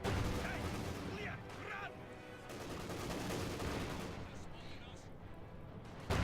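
Panzer IV setting off barrels in a Company of Heroes 2 match, a dense run of booming blasts and crackling gunfire-like bursts rolling on without pause across a busy battlefield.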